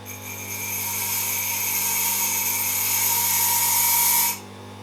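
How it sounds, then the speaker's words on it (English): Bench grinder with a cubic boron nitride wheel grinding the top of a piece, a loud steady high-pitched whine held for about four seconds before cutting off abruptly. "This is now the boron nitrate, cubic boron nitrate wheel, and now I will grind the top of this one"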